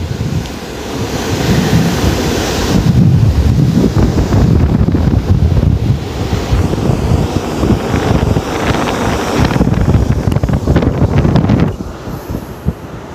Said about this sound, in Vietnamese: Đây là cái mũi quả lê của con tàu, nó đang phá sóng.